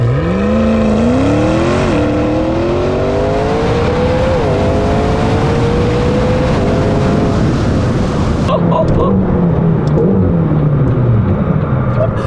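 A McLaren GT engine screams through rising revs in loud, close bursts, shifting up twice before a sharp drop and a growling downshift with crackles as it slows.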